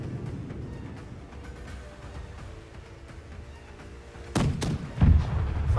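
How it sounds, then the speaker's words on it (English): In the pirate-ship game Blackwake, a pair of cannons on the ship's left side fire in two quick, loud booms near the end, after several seconds of low rumbling sea-battle ambience. "Left side, the two front cannons fire."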